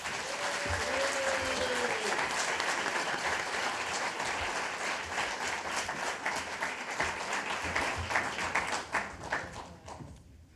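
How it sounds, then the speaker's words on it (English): Sustained applause from an audience at a student scholarship award ceremony, steady dense clapping that fills the room and begins to thin out toward the end, with a voice briefly audible early on. "Give them a round of applause."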